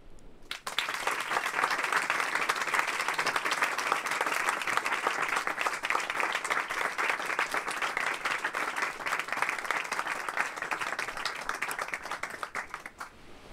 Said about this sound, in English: I invite you to join me to applaud and celebrate the stories of our guides